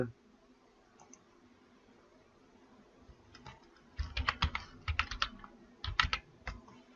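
Text being typed on a computer keyboard: after a quiet start, bursts of crisp, close key clicks arrive in quick irregular clusters, with faint room noise between them.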